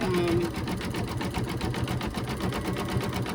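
An embroidery machine stitches out an Easter table runner with a fast, even, rhythmic clatter of needle strokes, close and steady throughout.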